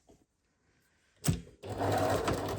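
A domestic sewing machine stitching a bias-cut fabric tube shut: a short mechanical clunk, a brief pause, then a steady, close whirring run of stitches that carries through to the end with no talking.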